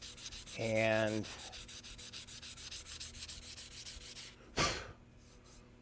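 A wooden Remington 81 rifle stock being sanded by hand in steady, rhythmic back-and-forth strokes, close and clear, with a brief tonal whine early on and a sharp louder scrape near the end.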